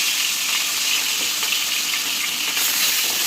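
Katla fish fry in hot oil in a pan with onions, giving a loud, steady sizzle with bright crackling spatter throughout and no talking.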